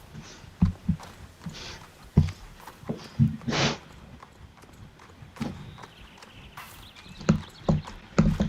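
Hooves of a horse clip-clop at a walk in a dressage arena, irregular steps heard close but fairly soft, with a snort and some rustling in between.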